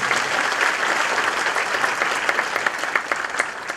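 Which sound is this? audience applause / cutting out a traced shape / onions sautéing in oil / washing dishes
audience applause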